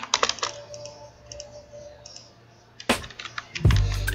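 Computer keyboard keys and mouse buttons clicking while drafting footing-column details in AutoCAD, with a burst of quick clicks at the start, a quieter stretch, then a sharper cluster of taps and clicks near the end, close and fairly faint.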